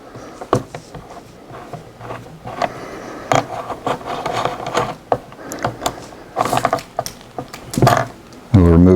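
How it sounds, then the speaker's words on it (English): A 1/8 inch hex wrench turning out the stacking and sling swivel screws on a Daisy Model 1903 drill rifle, with close metallic clicks, scrapes and knocks in irregular bursts and a louder clatter at the end. "We'll remove these screws and the swivels will pull right out."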